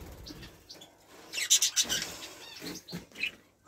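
Red mosaic canaries chirp in short bright bursts from a cage with feeders, several quick calls clustered mid-clip over faint background noise, no talking.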